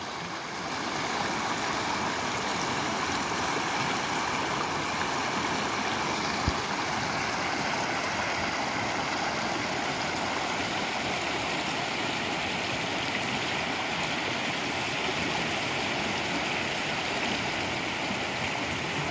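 Water of the Rio Salgado flowing steadily in a broad, continuous rushing wash, close and constant throughout with no talk, like a stream running over an eroded, cratered riverbed.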